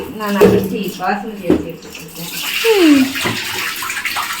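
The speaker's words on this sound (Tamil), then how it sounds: "madam chicken கழுவுகிறார்கள்" Tap water runs and splashes as raw chicken is washed in a kitchen sink, a steady close gush with voices talking over it.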